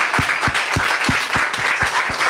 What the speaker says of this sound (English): please stand up and give a round of applause as Dr. Ma'am Sindiwe Magona comes to stage.